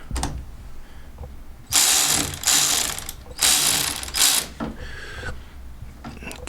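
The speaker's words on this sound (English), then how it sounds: "we'll just tighten the battery up" A ratchet tightens the battery clamp on a Fiat 500, with close, loud bursts of quick clicking in two main runs and a few shorter strokes after them.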